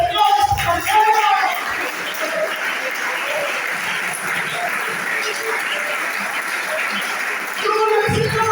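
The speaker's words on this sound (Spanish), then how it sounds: "Denle un aplauso, Señor, esta mañana." A church congregation breaks into applause during a sermon, a broad wash of clapping filling the middle of the clip, with a voice heard briefly before and after it.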